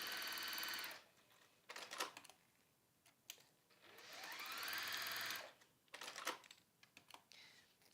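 A sewing machine stitches a quarter-inch seam on a simple crossbody bag in two close, steady bursts of whirring needle motor, separated by quieter clicks and handling sounds.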